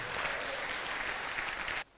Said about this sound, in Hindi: एक जोरदार तालियां होनी चाहिए आपके लिए